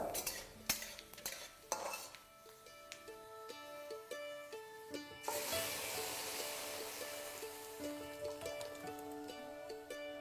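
Lentils tipped into a pot of browned garlic and stirred for Hyderabadi dal, with a spoon scraping and clinking against the pot, then a steady sizzle and hiss rising as the dal hits the hot oil, close and fairly loud.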